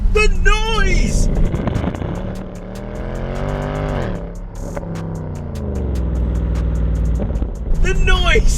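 A 2012 Mercedes C63 AMG coupe's V8 exhaust bellows as the car accelerates hard through gears, engine pitch climbing and dropping with sharp shifts and crackles, loud and close, with a voice talking over it at the start and end.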